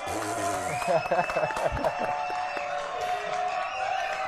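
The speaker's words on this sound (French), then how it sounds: "Applaudissements pour Vincent Shop." Studio audience at a French magic television show applauds and cheers, a dense sustained wash of clapping with whoops and shouts over a steady tone, loud and continuous throughout.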